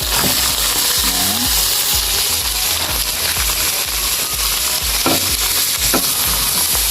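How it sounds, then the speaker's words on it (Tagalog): Meat sautéing with shrimp paste (alamang) for Bicol Express hisses in a pan, with a steady close sizzle and occasional scraping, stirring knocks throughout and no talk. "Igigisa natin itong karne"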